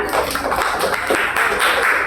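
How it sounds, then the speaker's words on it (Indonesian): A classroom of fourth-grade primary school pupils claps for a classmate, a dense, steady patter of many hands at close range that runs for a couple of seconds. "Tepuk tangan untuk Rizkiansyah."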